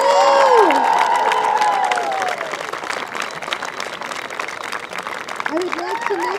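Crowd applause and cheering for silver medalists at a U16 field hockey national championship ceremony, loud and close, with shouts and whistles over the clapping at the start, then steady clapping with scattered voices.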